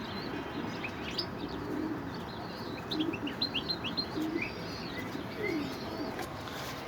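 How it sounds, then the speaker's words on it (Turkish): Homing pigeons return into their loft during training, giving faint chirps and soft coos over a steady outdoor hiss. A brief flurry of calls comes in the middle, and no one speaks. "Son posta kuşlarımız da giriyor içeri."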